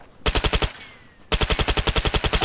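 Two rapid bursts of automatic fire from an HK MP7 submachine gun in the video game Arma 3 ring out loud and close, the first short and the second longer, separated by a brief pause.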